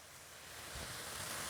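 A small waterfall on a creek at the Cincinnati Nature Center pours steadily as a soft broadband rush, faint and distant, with no voices.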